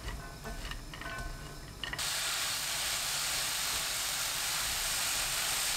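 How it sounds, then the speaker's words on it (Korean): Radish stir-frying in a pan with fine salt and perilla oil over high heat. A faint clatter gives way about two seconds in to a loud, steady sizzling hiss that lasts to the end. "팬에 무, 고운 소금 반큰술, 들기름 1큰술 넣고 센 불로 3분 볶아주세요"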